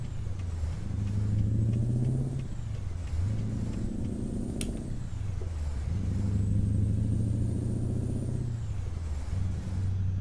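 Mack Ultraliner truck with a chipped and tuned E9 720 engine in American Truck Simulator, loud steady diesel drone climbing and dropping in pitch as it runs through several gear changes in a row, alone with no voices.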